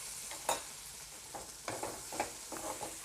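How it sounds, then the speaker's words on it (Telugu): Raw prawns go into hot spiced oil in a pan for a prawn curry. Soft sizzling runs beneath a few distinct scraping stirs, close and fairly quiet, with no voices. "ఇలా వేగుతున్నప్పుడు దాంట్లోకి వేయించుకున్న పచ్చిరొయ్యలు వేసుకొని"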